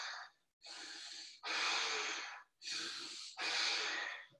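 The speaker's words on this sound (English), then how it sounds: "deep breathing here" Slow, deep breaths in and out during a half-lotus pose in an Ashtanga yoga class, five long, airy, close-up breaths with short pauses between them, heard alone.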